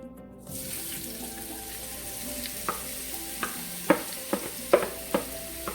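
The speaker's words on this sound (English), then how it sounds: "And we're going to add the jackfruit. We're going to sear it." Jackfruit searing in olive oil in a pan: a steady frying hiss begins, then a series of sharp utensil taps and scrapes as the pieces are moved around, close and moderately loud.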